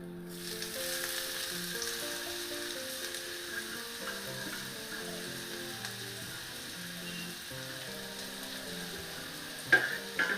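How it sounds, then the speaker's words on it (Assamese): Sun-dried radish fries with spices in oil for a radish pickle. A soft, continuous sizzle runs steadily beneath background music, with a few clinks near the end. "বেছি ভাজিব নালাগে, কাৰণ আমি আগতে ভাজিয়ে লৈছোঁ।"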